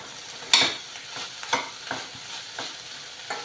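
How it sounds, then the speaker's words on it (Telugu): Capsicum fries in a pan and is stirred now and then, a few distinct scraping strokes spaced about a second apart over a faint, steady sizzle, close and fairly quiet with no talk. "ఇలా ఒక ఐదు నిమిషాలు వేగాలి ఇలా మధ్య మధ్యలో కలుపుకుంటూ ఒక ఐదు నిమిషాల పాటు ఇలా వేయించుకోవాలి"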